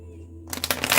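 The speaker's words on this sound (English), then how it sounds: "Let me give it a good shuffle." A tarot card deck shuffled by hand, with silence first and then a rapid, rising run of crisp riffling card noise that grows louder toward the end, close up and without speech.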